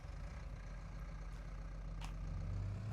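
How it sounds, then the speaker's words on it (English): Tractor engine running steadily in Farming Simulator 22, a low idling diesel drone heard alone, faint and even throughout with a slight rise near the end. "I like this tractor."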